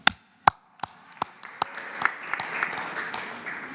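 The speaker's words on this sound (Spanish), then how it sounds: "No, un aplauso." Audience at a press conference breaking into applause, starting with a few isolated sharp claps that quickly build into fuller scattered clapping.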